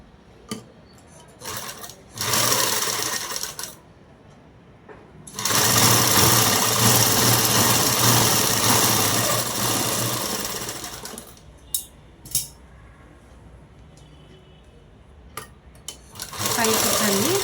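Sewing machine running top stitching on a dress, in loud whirring bursts of stitching: a short run, a long steady run of about six seconds, then a brief final run, with quiet pauses and faint talk between.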